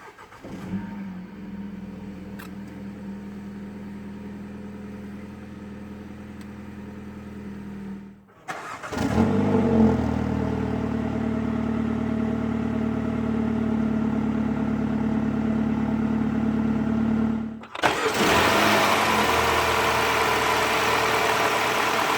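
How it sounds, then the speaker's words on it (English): A 2018 BMW X1 sDrive20i with push-button start cranks and fires up, then settles into a steady idle. A second loud surge near the end lifts the engine note, all heard close up with no talking. "put your foot on the brake, and then hit the button to start."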